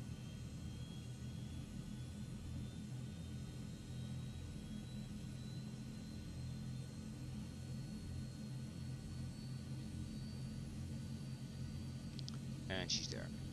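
The engines of a C160 Transall model aircraft spool up as a faint, steady turbine whine with a rising pitch over a low rumble, heard from a distance.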